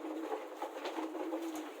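Ornamental pigeons or doves cooing softly and steadily close by, a low murmuring coo running throughout the short stretch.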